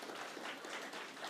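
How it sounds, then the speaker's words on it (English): Audience applause at a student motivational talk, a brief, fairly faint patter of clapping from a crowd. "Let's give them a round of applause."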